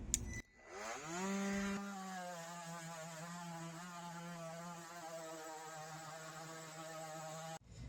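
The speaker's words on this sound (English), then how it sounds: "we got the sander working" A THINKWORK cordless 20V sander clicks on and spins up, then settles into a steady, close electric whine and buzz that holds without a break before cutting off at the end.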